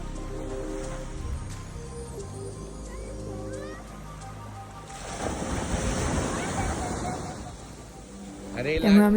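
Ocean waves roll onto a Konkan beach, a steady wash that swells into a louder surge of breaking surf midway, with wind buffeting the microphone and the sea loud and near throughout.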